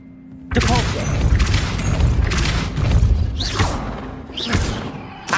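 Depulso, the repelling spell in Hogwarts Legacy, cast as a sudden loud magical blast with a whooshing burst that rumbles on, followed by further heavy thumps and swells.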